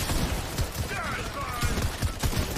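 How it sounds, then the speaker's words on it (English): Rapid-fire SMG gunfire in a video game comes as a quick series of short, punchy low bursts in an uneven rhythm, moderately loud, with brief voice-like sounds mixed in. "This guy has a rapid fire SMG."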